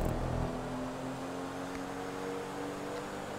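A fast car in a GTA rally race drones with a steady engine hum and a brief rev at the start, continuous and moderately loud, with no speech over it.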